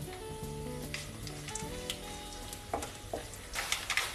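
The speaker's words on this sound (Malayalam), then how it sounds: "കുറച്ച് നമുക്ക് കടുകൂടാം. കടു പൊട്ടുമ്പോൾ ഒരു രണ്ട് മൂന്ന് മുളക് ഇട്ട് കൊടുക്കാം." Mustard seeds crackle in hot oil with chillies dropped in for a Kerala fish pickle, a soft steady sizzle dotted with small pops that grow sharper and louder near the end, under faint background tones.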